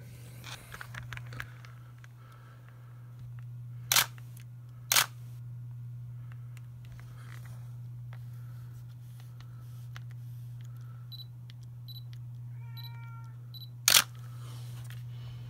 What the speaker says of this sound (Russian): и затвор у вас сработает.